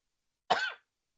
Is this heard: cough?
yes